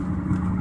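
A car driving through a green light in light rain, its engine a steady low rumble with road and tyre noise close by, no voices.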